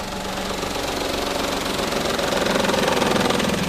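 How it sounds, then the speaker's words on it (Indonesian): A Toyota Agya or Daihatsu Ayla engine churns and knocks rapidly on the starter, a loud, dense mechanical cranking that grows slightly stronger, with no voices. "mesinnya ini kan kayak gini kencang di starter"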